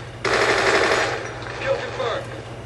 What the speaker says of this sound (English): I'll be going back to my machine gun